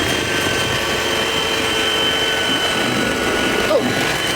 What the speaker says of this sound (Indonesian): Kita mixer kurang lebih 5 menit.